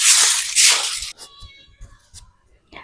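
Pet cats kept in a cage let out a loud, drawn-out meow, followed by a few fainter, scattered cat sounds nearby.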